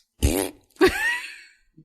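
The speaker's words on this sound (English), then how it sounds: "Fart noise." Two short fart noises, the second longer and drawn out, close and loud, followed by a faint tiny blip. No talk is heard.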